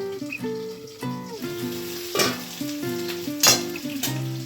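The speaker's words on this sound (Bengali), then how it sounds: "কচু আলুটা আমার প্রায় এখানে হয়ে গেছে ভাজা ভাজা" Taro and potatoes sizzle and crackle steadily as they fry in a pan, with tonal music playing over the frying.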